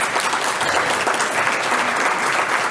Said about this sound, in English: Maybe one more round of applause for those folks.